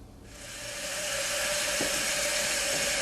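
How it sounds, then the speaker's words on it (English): Water hisses into a toilet tank after gasket repairs, starting quietly and building to a steady, rushing fill that holds for several seconds. "Got this water filling up now."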